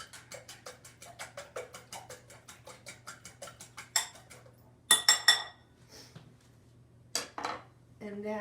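A matzah ball mixture is beaten in a bowl with a utensil, making a quick run of even, rhythmic clinks that give way to a few louder, irregular scrapes and knocks near the end.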